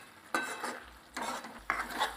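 A spoon scrapes and stirs pav bhaji masala with coriander-cumin powder in a pan, in three distinct sweeping strokes over a soft sizzle.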